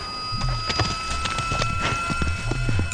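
Horse hooves clip-clopping steadily at a walking pace, close and clear, with repeated hollow knocks over a low rumbling background.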